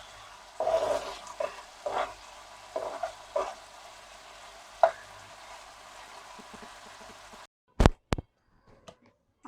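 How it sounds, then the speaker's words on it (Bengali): Meat fries in a pan in its own released water for a bun pizza topping, giving a soft sizzle broken by scattered stirring scrapes, then a few sharp knocks before the sound falls quiet. "মাংসটা ভাজতে কিন্তু খুব বেশি একটা সময় লাগবে না"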